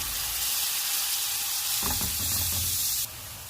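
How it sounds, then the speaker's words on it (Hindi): Buttered bajra roti cooking on a hot griddle, giving a loud steady broadband sizzle with a brief rustle as it is turned, the hiss dropping slightly near the end. "और इस पर हम रोटी डाल देंगे। और फिर हम इसकी साइड को चेंज कर लेते हैं और इसे पका लेंगे।"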